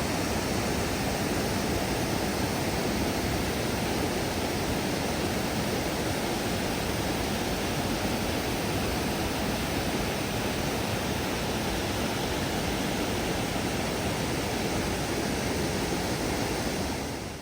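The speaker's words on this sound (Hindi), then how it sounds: "ये क्लिप मैंने आप लोगों के लिए इसलिए रिकॉर्ड किया ताकि आप लोग सुन सकें कि पानी की आवाज़ कितनी अच्छी लग रही थी।" Flowing water in Bad Ischl, Austria, a steady broadband rush like a stream or weir, loud and continuous throughout with no voices.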